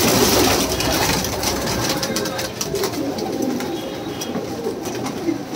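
Pigeons of Punjabi, Madrasi, desi, Rampuri and Saharanpuri breeds kept for sale, cooing and fluttering in a dense, steady flock chorus with a loud, constant background murmur.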